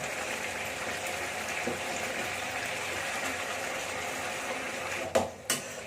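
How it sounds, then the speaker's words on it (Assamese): Hot water goes into a simmering fish curry in the pot, making a steady, close hiss of pouring and bubbling that stays even throughout, ending with two sharp clicks and no voices. "এইটো গৰম পানী আছে, গৰম পানী দিম মই।"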